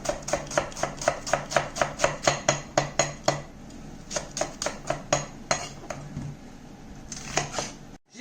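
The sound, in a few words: slicing onions finely with a knife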